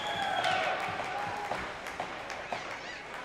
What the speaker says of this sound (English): Monarch crowd's buzzing pretty good.